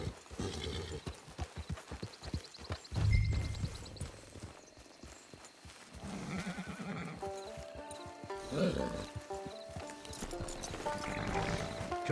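Horse hooves in Red Dead Redemption 2, rhythmic clip-clop of a walking and trotting horse, with a snort or whinny, under swelling game music and ambient sound.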